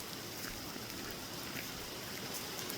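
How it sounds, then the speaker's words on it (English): Heavy rain pours on a forest trail with a steady, dense hiss that stays even from start to finish, with no voices or other distinct sounds. "it is starting to pour rain"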